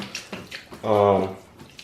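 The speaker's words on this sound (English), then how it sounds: "my first couple gallons will be hot, very hot water from my tub" Very hot water from a bathtub splashes onto Reptichip coconut substrate in a short burst, framed by brief scraping and rustling handling sounds nearby.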